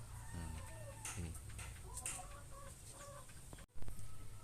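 Free-range native village chickens clucking in an open-range pen, several birds with repeated short clucks at close to mid distance over steady outdoor background noise, a brief dropout near the end.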